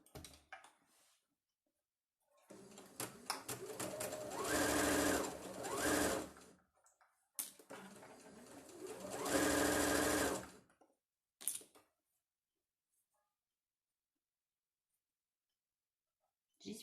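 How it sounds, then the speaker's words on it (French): A sewing machine topstitches a snood in two sustained, close runs of rapid whirring stitches, separated by a pause and followed by a few brief clicks and near silence. "je fais vite fait ma petite surpiqûre"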